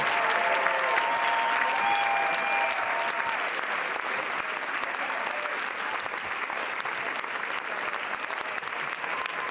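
A festival audience at Cannes applauds steadily and densely, a loud, continuous wash of clapping from a large crowd with no pause.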